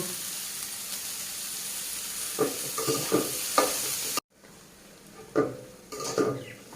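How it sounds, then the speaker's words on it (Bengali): Shredded cabbage with turmeric is stir-fried in a pan, producing a constant sizzle punctuated by several spatula scrapes and tosses, close and clear, with a brief cut partway through before the stirring and sizzling resume. "কপিগুলো ভেজে নেব।"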